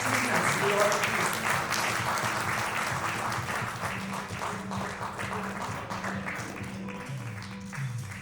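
An awards ceremony audience gives sustained applause, broad and even clapping from a large hall, while a voice and a low tonal background run beneath it throughout.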